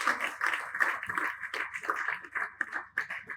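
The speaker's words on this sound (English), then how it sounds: "Please give a huge round of applause for Barbados Today" Applause at an appreciation award ceremony as a media organisation is honoured. Brisk, fairly dense hand clapping continues without a break for the whole stretch, moderately loud and with no talk over it.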